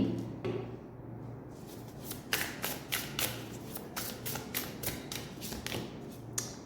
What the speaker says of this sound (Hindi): यहाँ से भी आज मैं सबसे पहले ना कार्ड्स निकालूंगी